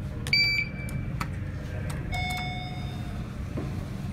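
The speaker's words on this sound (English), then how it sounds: "They're testing the fire alarms today" A building's fire alarm system under test sounds as thin electronic beeps and sustained tones, cutting in briefly at intervals over a steady low rumble of machinery in a 1992 Otis elevator setting.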